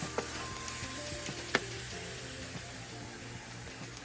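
Onions, mushrooms and garlic sauté in a pan for creamy garlic lemon chicken, giving a steady, moderately quiet sizzle with a few sharp stirring clicks and scrapes, and no talk.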